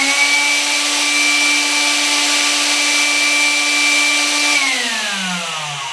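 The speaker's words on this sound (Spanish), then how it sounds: "Vamos a darle al interruptor, aguantando antes el motor, pues es bastante" A fast electric motor whines steadily at high speed, a clean sustained tone close by, then drops in pitch as it winds down near the end.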